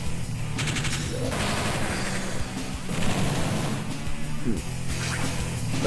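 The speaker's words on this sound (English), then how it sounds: "let's go ahead and fire on this tank" A tank fires in the Advance Wars: Dual Strike video game as a dense burst of game gunfire and explosions, loud and continuous, with crashing booms layered over one another.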